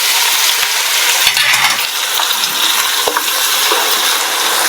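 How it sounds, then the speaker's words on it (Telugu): Crushed shallots and four dried red chillies fry in hot tempering oil for an Andhra brinjal pickle, giving a steady close sizzle broken by a few sharp clinks of stirring with no talk. "చిన్నులపాయ అనేది గోల్డెన్ కలర్ వచ్చేటికి వేగనివ్వాలి"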